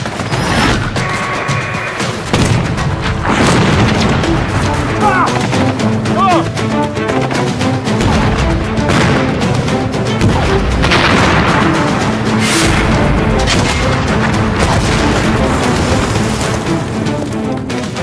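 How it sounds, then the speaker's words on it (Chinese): A tank cannon fires during a loud war-film battle. Heavy booms and crashes overlap with rapid gunfire and dense debris-like clatter in a continuous, thunderous din, with occasional shouting buried underneath. "随管坦克火炮射击模拟系统准备，模拟发射"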